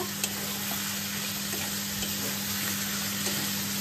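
Fish frying in a pan makes a continuous, even hiss and sizzle with faint crackles, heard alone over a low steady hum.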